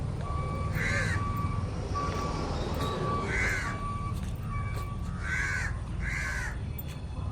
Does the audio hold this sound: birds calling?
yes